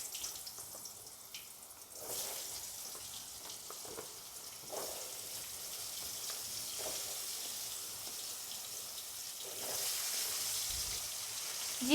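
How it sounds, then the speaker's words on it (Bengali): Potatoes frying in a pan with nigella seeds in a home kitchen, giving a steady close sizzle with bursts of louder crackling and occasional stirring scrapes that swell toward the end. "এবার আলুগুলো ভেজে নেব।"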